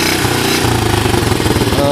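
A small Honda ATC 125 ATV engine idles steadily at close range, its rapid chugging pulse loud and continuous with no talk over it.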